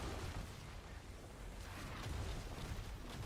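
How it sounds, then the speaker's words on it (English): Booming explosions from Diablo IV combat as a Season 8 Spiritborn, a dense, continuous low rumble of overlapping blasts and bursts with no clear gaps, steady and loud throughout. "More explosions."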